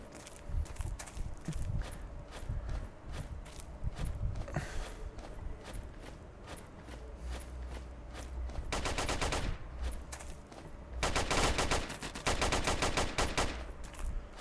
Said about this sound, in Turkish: Bir yerlerde çatışma var ama göremiyorum.